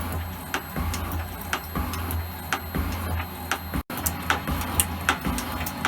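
An Elliott 10M metal shaper cuts steel at 90 strokes per minute, its regular strokes ticking and clacking at an even rhythm over a steady mechanical hum, close and moderately loud, with no talk.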